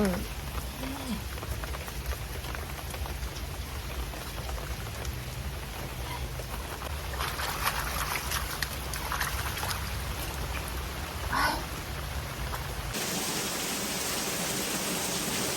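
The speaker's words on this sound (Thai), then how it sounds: "นี่ก็คือสภาพฝนนะคะ ตกหนักมากตกไม่หยุด" Heavy, steady rain pours nonstop over a home garden during tree planting, a dense even hiss with no pauses, close and loud throughout, shifting in texture near the end.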